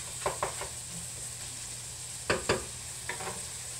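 Ground beef for empanadas sizzles quietly in a frying pan while a utensil breaks it up, giving a few soft scraping, stirring pulses in pairs over the steady fry.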